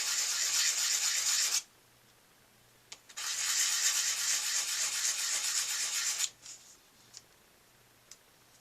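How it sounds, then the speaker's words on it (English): Two long bursts of close, scratchy sanding of a scratch-built 1/72 scale model part, each a steady abrasive rasp, separated by a pause with a few small taps. "I would recommend sanding it down now to get it nice and flat."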